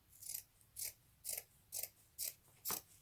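Scissors snip through fabric while cutting out a square piece for a handmade doll, six crisp, evenly spaced cuts close by with quiet pauses between them.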